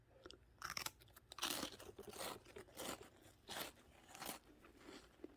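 Someone snacking on something crunchy while waiting for a pie filling to heat, with close, irregular bites and chewing crunches repeating over a few seconds, loud against a very quiet background.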